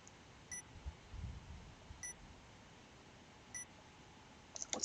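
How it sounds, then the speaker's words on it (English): Three short, faint electronic beeps spaced about 1.5 seconds apart over a low background hum, with a brief cluster of beeps at the end, from the video game 428: Shibuya Scramble. "Strange beeping sound broke Minorikawa out of his riding reverie"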